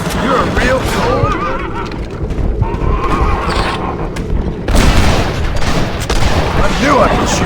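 Gunfire rings out during a Wild West shootout in Red Dead Redemption on PC, steady and loud beneath horse whinnies, hoofbeats and shouted voices, with bursts crowding together throughout.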